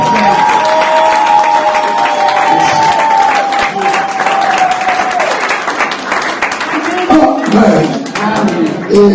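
An audience at an ordination service for a pastor applauds and cheers loudly throughout, with dense clapping and voices over a sustained sung or spoken tone.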